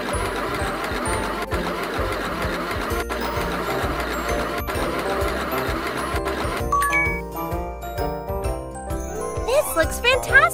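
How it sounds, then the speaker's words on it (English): A rapid mechanical sewing-machine whir from a baby fashion dress-up game plays steadily over cheerful background music, ending in a sparkly chime flourish. "And sew it."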